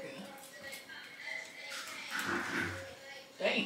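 Several dogs outside whimper and yip faintly, wanting to come in, thin whines rising under ongoing talk indoors.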